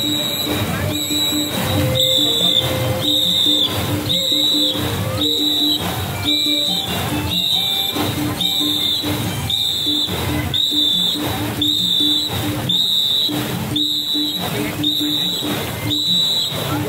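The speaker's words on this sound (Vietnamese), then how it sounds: "Cái còi này hơi dữ lắm nè." At a Ghe Ngo boat racing training session at Chùa Trà Quýt, several people blow whistles in loud, shrill, evenly spaced blasts that keep a steady pacing rhythm, with crowd noise and voices around them.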